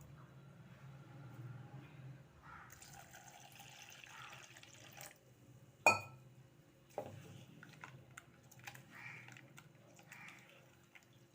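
Water is poured into a blended banana and coconut milk mixture for Thirunelveli-style palum pazhamum. Faint, steady pouring and splashing runs at low level, with a sharp clatter midway and a few soft knocks afterward.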